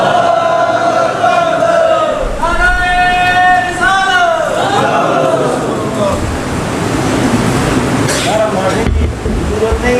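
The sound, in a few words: audience chanting a slogan during a religious talk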